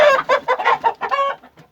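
A white Aseel rooster clucks in a rapid series of short, close, loud calls, trailing off into softer clucks at the end.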